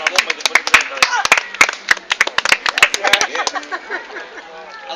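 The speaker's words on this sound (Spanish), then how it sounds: "Dar un aplauso." A few people clapping at home or among friends, sharp separate claps in an uneven burst that thins out, mixed with voices talking over it.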